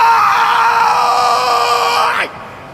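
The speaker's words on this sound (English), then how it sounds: "Yawning is your body's way of shouting" A long, loud, drawn-out human yawn strained enough to sound like a yell or groan, held steady for about two seconds before it trails off sharply.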